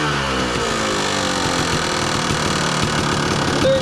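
A 2002 Kawasaki KDX 200 two-stroke dirt bike engine idles steadily close by, a continuous buzzing drone with a slight uneven flutter that holds for several seconds alone.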